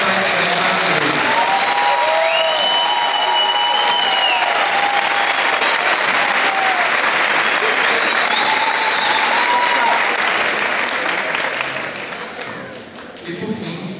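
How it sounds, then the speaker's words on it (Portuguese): Applause from the crowd at a health-event closing party, sustained loud clapping over many seconds with some tonal sounds over it, fading near the end as a voice returns. "eu gostaria de pedir uma salva de palmas para todos os trabalhadores que nos ajudaram a montar esse evento hoje"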